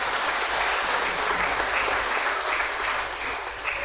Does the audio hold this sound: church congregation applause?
yes